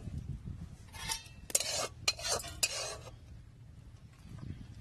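Finished curry made with shapla (water lily stems) and fish being poured and scraped from a pan into a bowl, a few seconds of close, wet scraping and spoon clinks against a faint background.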